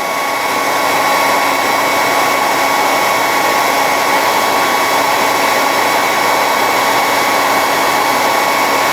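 A heat tool blows steadily over clamped plastic pieces of a 1/72 Sinanju model kit torso, a constant loud whooshing roar with no breaks.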